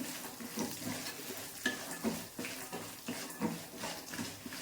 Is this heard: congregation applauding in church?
no